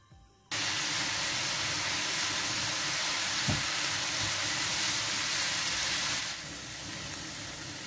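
Chopped onion frying in fat in a pan, a loud, steady hiss of sizzling that starts abruptly and continues close up, easing slightly near the end with a single faint knock midway.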